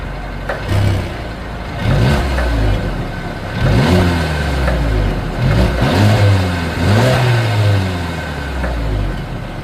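Exhaust of a 2022 Mercedes-Benz CLA 250 sedan being revved, with several repeated throttle blips that rise and fall over a steady idle, heard close and loud with no talking.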